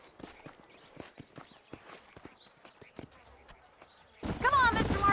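Horses' hooves clip-clop in the game Red Dead Redemption, a sparse, irregular series of hoof knocks at moderate distance, followed by a louder burst of a voice at the end.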